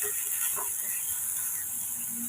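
Cabbage, capsicum and carrot sautéing with salt in a pan, a steady close sizzle and hiss throughout, with faint stirring scrapes.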